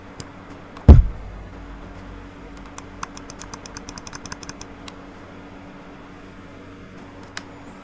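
Side buttons on a Razer Basilisk Ultimate mouse click in a quick run of about a dozen sharp, close, light ticks, after one louder thump near the start, then quiet room hiss and one last faint click.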